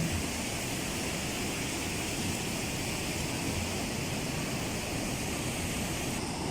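Ocean waves rolling onto a shore: a steady, dense broadband rush of surf with faint wind, continuous and unbroken with no distinct breaks, and no voices present.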